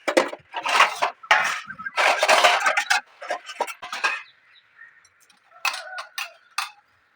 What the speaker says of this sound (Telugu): వర్షం ఎలాగో ఆగేటట్లేదని పంచలో అయితే గిన్నెలు అయితే కడిగేసుకుంటున్నాను